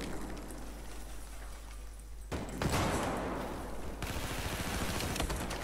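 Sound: gunfire in video game Battlefield 4

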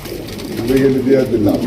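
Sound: red spangle pigeons cooing

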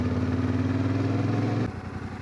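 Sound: motorcycle engine riding

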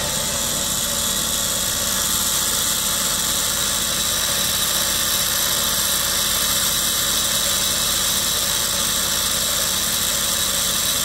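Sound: Dremel spinning a magnet for magnetic levitation

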